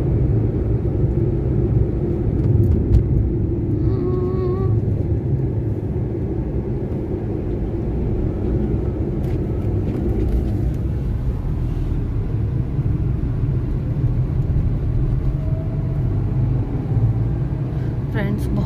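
A car driving along a jungle road, a continuous low engine and road rumble heard from inside the vehicle, steady and fairly loud, with voices talking faintly in places.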